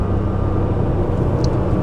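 A 1996 Porsche 993 Turbo with 408 hp cruises on the Autobahn in Bavaria, its engine a loud, steady, broadband drone heard from inside the car.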